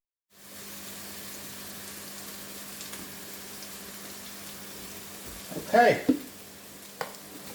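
Onions cooking in a pan for chicken jalfrezi give a steady, soft sizzle throughout, broken near the end by a few louder stirring clatters and a brief spoken word.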